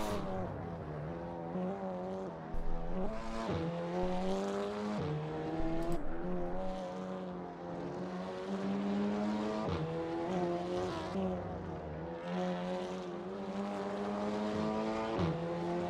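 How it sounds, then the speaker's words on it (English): Race car engines roar continuously at a distance, pitch climbing and dropping repeatedly with choppy stutters at each gear change. "Transition of these cars when they shift gear sounds like someone's got a bad cough."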